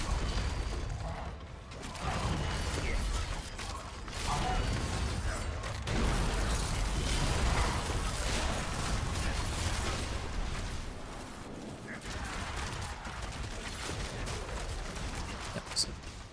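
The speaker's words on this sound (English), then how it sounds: "That was a bigger explosion than I expected." Ether Fiends blow up in a Diablo 4 battle with a Bow Rogue on Torment 1, a dense stretch of repeated booming blasts and clattering, gunfire-like bursts mixed with continuous game effects.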